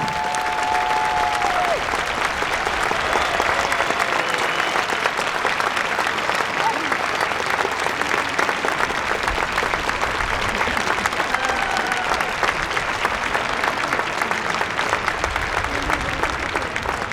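Sustained applause from a large audience at a gymnastics festival in Tartu, a dense steady clatter of clapping filling the space throughout, with a brief voice or tone near the start.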